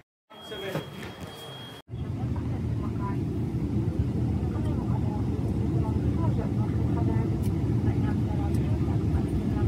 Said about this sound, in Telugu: సో ఎమిరేట్స్కి వెళ్ళే ఫ్లైట్ ఎక్కాము మేము